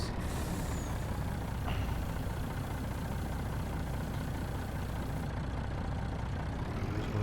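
Truck engine idling and rumbling steadily in Farming Simulator 19, with a short hiss of air brakes early on and no voices over it.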